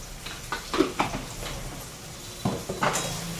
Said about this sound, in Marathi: मसाला छान पीठ भाजून घ्यायचं